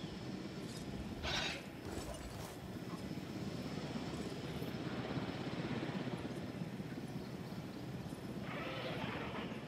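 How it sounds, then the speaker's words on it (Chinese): An aircraft in the dinosaur-park game Jurassic World Evolution hums in the distance as a faint, steady drone under game ambience, with short bursts of noise rising and fading. "飞机。"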